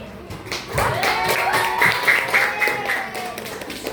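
A sixth-grade math class claps briefly in the classroom, loose clapping under a teacher's voice speaking over it throughout.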